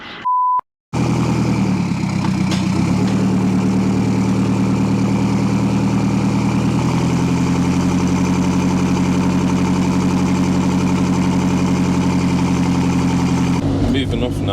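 A London Taxi TX4 converted into a flatback lorry runs close by, its engine starting from a steady idle into a sustained low drone while driving off, with people talking over it.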